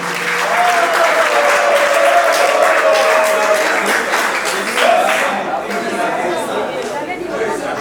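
Wedding guests applaud loudly and steadily at a reception, a dense wash of clapping with voices and chatter mixed through it.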